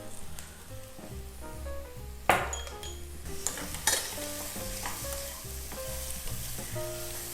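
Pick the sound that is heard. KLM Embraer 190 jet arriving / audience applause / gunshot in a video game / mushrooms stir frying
mushrooms stir frying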